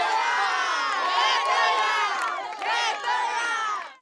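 Football fans of a local Peladão 2019 team shouting and cheering together, a loud, continuous crowd roar with high voices and whoops, close by.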